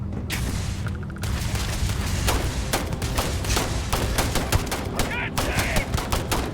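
Rapid gunfire in Starfield, a continuous stream of loud, close automatic shots with thumping impacts and occasional louder bangs, kept up across six seconds with brief gaps.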